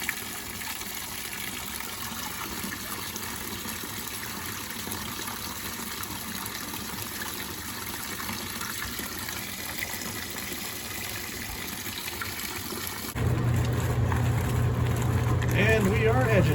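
A washing machine hooked up in a workshop runs through its wash with a little cleaner added, water sloshing and churning steadily, then the agitation grows louder and busier near the end.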